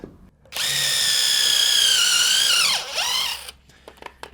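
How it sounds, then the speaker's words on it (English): A power drill whines steadily for about three seconds as it bores a small pilot hole into the wooden floor of a chicken coop, dipping briefly in pitch as it bites before stopping. "we need to drill a little hole"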